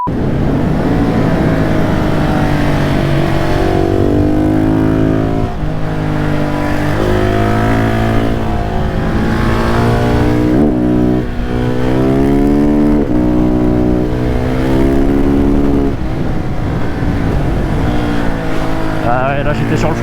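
A loud KTM 690 SMC R supermoto engine drones steadily while riding, its pitch rising and falling as it revs and shifts, with wind rush throughout.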